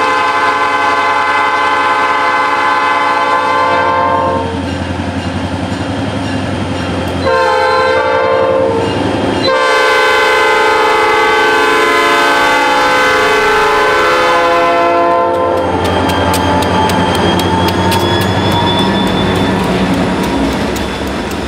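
A Chicago, Fort Wayne & Eastern freight train with EMD locomotives rolls past loudly and steadily at about 15 mph, its horn sounding in long blasts, followed by rhythmic clicking of wheels over the rails.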